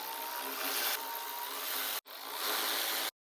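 A power tool runs on three 10mm bolts of a KTM RC 390 motorcycle engine during a valve adjustment, a loud continuous buzzing whir broken by a brief pause before resuming and then stopping abruptly, with no talk.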